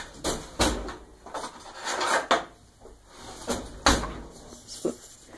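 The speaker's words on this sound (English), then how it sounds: "Spoon. And we shall stir this." A spoon stirs a vanilla chai latte in a cup, clinking and scraping in a quick, irregular series of sharp taps, close and clear with quiet pauses between strokes.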